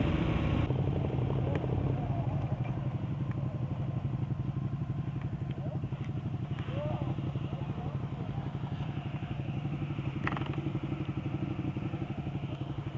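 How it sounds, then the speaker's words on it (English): A 2015 Ducati Hypermotard 821 motorcycle on a test ride, its engine droning steadily and close throughout with a rough, pulsing tone beneath wind noise. "This is probably the only Ducati bike that I would actually consider seriously buying."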